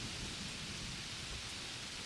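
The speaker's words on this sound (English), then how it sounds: "the sound of the storm roaring louder" Storm sound effect of heavy rain pouring steadily with a low thunder rumble underneath, a dense, even wash of noise at a faint level throughout.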